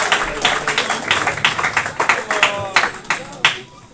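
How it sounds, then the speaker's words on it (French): A church congregation at an evangelical youth day applauds, rhythmic clapping pulsing steadily and fairly close while a voice speaks over it. "Acclamons pour le Seigneur, acclamons pour sa parole."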